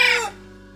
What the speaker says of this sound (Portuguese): Quem é que consegue aí, galerinha, fazer o galo cantar?